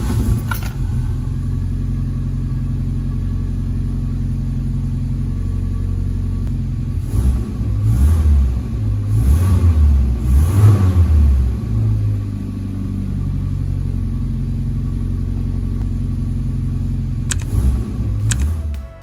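1978 Saab 99 Turbo, a Swedish performance car, idling with a low rumble before revving in several surges midway, then settling and giving a brief final blip.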